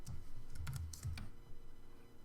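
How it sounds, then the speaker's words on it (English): Computer keyboard keys pressed while working in Adobe Illustrator, a short burst of several close, crisp clicks followed by one more keystroke, with no talking. "I'm going to hit the F key on the keyboard to fill up all my screen space, and then hit Tab"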